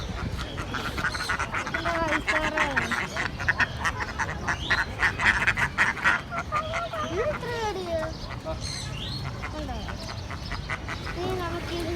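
Ducks quack repeatedly at a Friday pet market in Al Rai, giving bursts of nasal calls over a busy, crowded background with voices.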